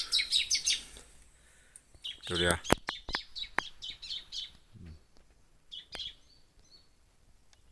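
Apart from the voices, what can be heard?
jiblek bird calling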